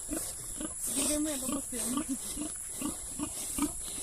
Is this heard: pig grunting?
yes